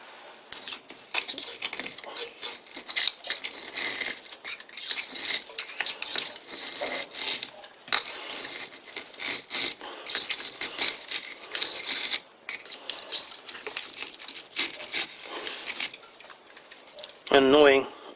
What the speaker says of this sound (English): After every cut I need to clear out the chips, because the throat of the chuck fills up.